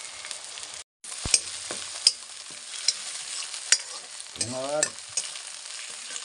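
Chopped ginger tipped into a sizzling soup on a village stove and stirred, a steady hiss of frying broken by scraping spoon clinks and one short swirling slosh, with a brief spoken word at the start.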